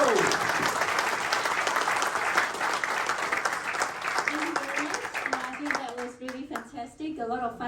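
Audience applause at a TeamViewer tech event in Perth, a dense, steady round of clapping that thins out toward the end as a few voices and tonal sounds come through.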